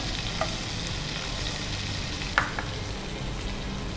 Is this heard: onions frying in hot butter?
yes